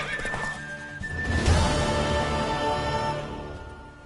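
A horse in The Witcher 3 lets out a loud, drawn-out neigh with a few hoof clops around it, close and prominent.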